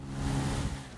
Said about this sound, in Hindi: गाड़ी बड़ा शोर कर रही है